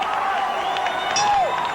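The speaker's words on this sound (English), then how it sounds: "And the crowd is ready for it, Larry." Steady crowd roar with cheering rises and swells from a packed arena at a PKA lightweight title kickboxing bout, Bill Wallace against Ray McCallum, a continuous noisy wash with a faint whistle-like tone riding on top.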